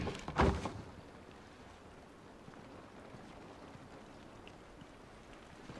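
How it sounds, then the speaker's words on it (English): Rain falls in The Last of Us video game, a steady soft hiss of drops with a brief dull thump at the very start, fairly quiet and with no voices. "This rain ain't gonna do us any good."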